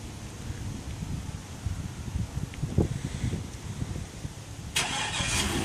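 A 2003 Chevrolet Suburban engine starts by remote start outdoors, a brief crank and catch settling into a low idle heard from nearby under rustling wind, with a sudden hiss-like burst near the end.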